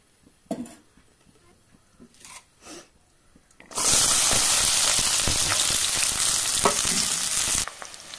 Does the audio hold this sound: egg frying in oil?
yes